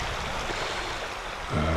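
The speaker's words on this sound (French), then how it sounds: "enfin juste à côté d'une cascade, c'est pour ça qu'on a pas mal de bruit là" A waterfall right beside the listener near ruins and vegetation in the Val sans Retour forest, a loud, steady broadband rush filling the whole clip, with a voice starting at the very end.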